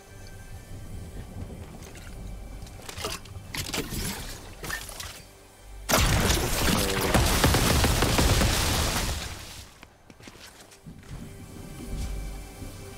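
Gunfire in Fortnite: a few muffled pops and rumbles lead into a loud, sustained volley of shots lasting several seconds, which then drops back to quieter rumbling.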